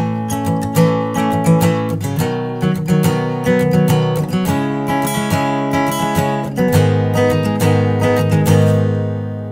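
An acoustic guitar is strummed in a steady rhythm, full chords ringing out close and clear with no voices.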